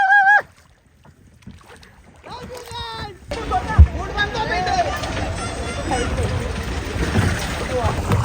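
Rowing boat out on Venna Lake, Mahabaleshwar, with a constant wash of water and wind noise close to the microphone, while excited voices talk and call out over the lapping and splashing.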